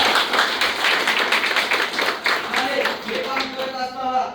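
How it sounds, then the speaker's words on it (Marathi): Seminar audience clapping, a dense burst of applause that starts loud and gradually thins out while a voice speaks through the last part. "त्यांच्यासाठी एकदा जोरदार टाळ्या."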